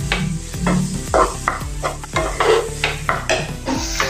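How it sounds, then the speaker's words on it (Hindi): Red chili powder and turmeric get mixed into frying vegetables, with loud, close, rhythmic scraping and clanking of a spoon against the pan over a crackling sizzle, repeated stroke after stroke. "पहले हम इसमें लाल मिर्च पाउडर डालेंगे, हल्दी डालेंगे, अच्छे से मिक्स कर लेंगे।"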